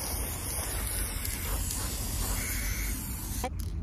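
A spray can hisses steadily while spraying paint onto a mirror during a DIY makeover, a continuous close airy rush that cuts off abruptly near the end.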